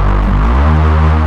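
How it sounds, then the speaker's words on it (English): Synthesized Reese bass layered over a pure sub sine wave, for hardwave production: a loud, thick, throbbing low drone with slowly shifting detuned harmonics, sustained for about a second without voice. "So yeah, this is a pretty basic Reese bass."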